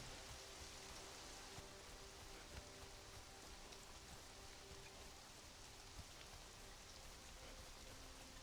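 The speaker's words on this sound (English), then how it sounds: "Is that wind or rain? It's rain." Steady rain in the video game Conan Exiles, a constant broadband hiss of drops that stays even and unbroken for the whole stretch, with no talk over it.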